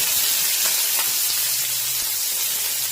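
Onion frying in a pan with browned garlic and curry leaves, a steady close sizzle and hiss that holds evenly throughout with no talking.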